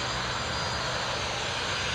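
A European Air Charter Airbus A320 at Newcastle International Airport gives off a steady, broadband jet roar with a high whine on top. It holds at constant loudness through the whole short stretch, with no voices.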